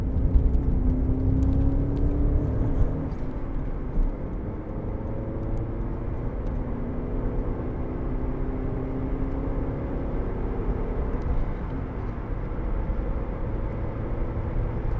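A 2003 Alfa Romeo GTV 2.0 Twin Spark 16v engine accelerating, a steady droning whir with a rising engine note that holds for about fifteen seconds.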